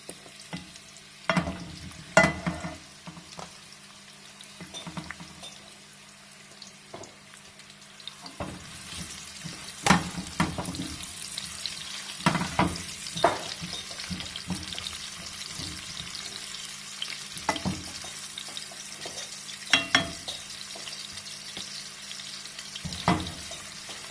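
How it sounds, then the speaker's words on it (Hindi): Onion slices frying in a pan, a continuous sizzle broken by repeated scraping stirs and clinks of a spatula at close range. "add onion slices, 2 small onion slices and cook till soft"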